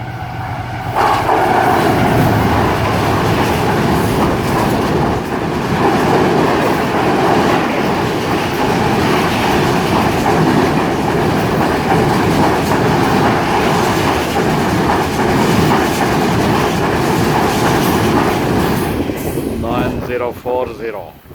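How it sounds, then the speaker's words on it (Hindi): The Shalimar Express passenger train runs along the rails, four hours late. Its loud, continuous rumble and rhythmic clickety-clack of wheels over joints sound close by, then fade and squeal slightly at the very end. "चार घंटे की ताख़ीर से दौड़ती हुई शालीमार एक्सप्रेस।"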